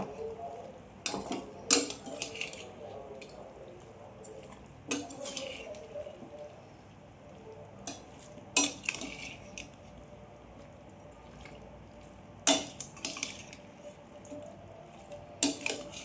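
Jackfruit biryani ingredients stirred in a cooking pot with rock salt, a spoon scraping and clanking against metal in scattered sharp knocks over a quiet background, no talking.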